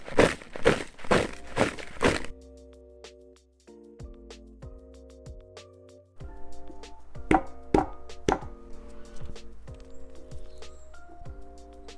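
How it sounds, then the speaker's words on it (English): Olives cracked between two rocks for Sardinian cured olives give a run of loud, sharp knocks at the start, then scattered clacks and crunches over a steady low background hum. "All I have is 2 rocks to break the olives."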